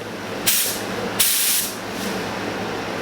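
Spray gun laying car paint on a Subaru WRX STi at 45 psi, two loud airy hissing bursts of about half a second each, close by, with the steady hum of a booth in between.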